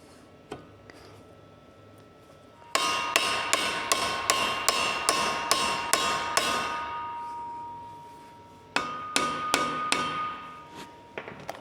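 Hammer tapping driveshaft caps into place on a Mini Mack A40 build, a quick run of about eight close, sharp metallic taps, a pause, then another burst of five or six, with a faint steady ringing tone beneath.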